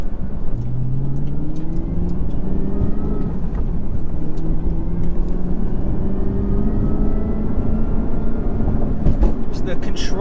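A 2021 Chevrolet Camaro ZL1 1LE cruises a back road through marsh and swamp, its engine a loud, steady drone with slowly rising pitch as it pulls through the gears, plus road and wind noise throughout.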